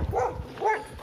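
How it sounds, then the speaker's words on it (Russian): A dog in a park gives two short yelping barks about half a second apart, moderately close and fairly clear, with a little background noise and no speech. "Там еще через сам парк проходит собака. Что-то гавкает."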